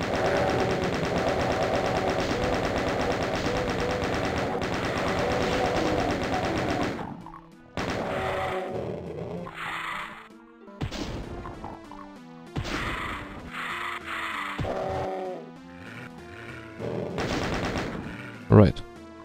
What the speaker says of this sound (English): I need the chain gun here